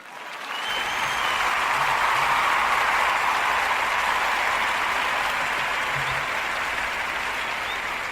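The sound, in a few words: applause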